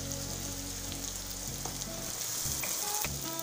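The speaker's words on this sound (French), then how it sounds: "je fais revenir mes oignons" Onions sautéing in a pan at home, a steady close sizzle and crackle throughout with a few light stirring knocks near the end.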